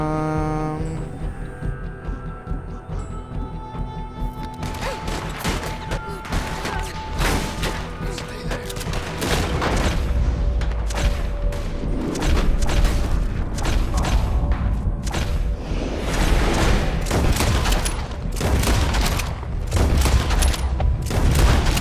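Rapid gunfire and booming shots in the video game Red Dead Redemption 2 during a story-mode shootout, dense bursts of sharp cracks and heavy blasts continuing throughout, loud and close.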